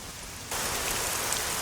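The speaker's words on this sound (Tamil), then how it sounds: "சரியா மழை பெஞ்சிட்டு இருக்கு" Rain falling in a dense, hissing downpour that starts abruptly after a brief quieter moment, then stays steady and loud with no voices.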